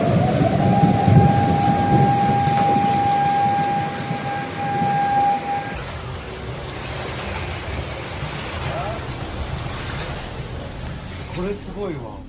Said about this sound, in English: This was a pretty crazy storm that was recorded by one of the residents.